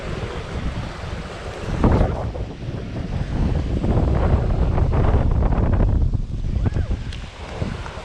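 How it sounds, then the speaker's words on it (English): Strong wind gusts across a mic on the Mississippi River during catfish fishing near a sandbar, a loud rushing roar with buffeting bursts and lapping water, with a person talking intermittently underneath. "The wind is really strong."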